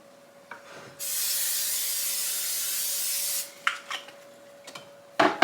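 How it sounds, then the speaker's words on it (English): A steady spray of cooking oil onto a baking pan hisses for about two and a half seconds, followed by a few light scrapes and taps nearby. "I'm going to spray my pan with some Pam"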